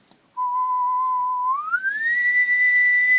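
A person whistles a steady tone, then slides it upward and holds a higher pitch, imitating a 2 kilohertz test tone; clear and close with no other sound.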